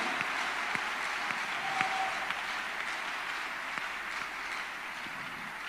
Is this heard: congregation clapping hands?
yes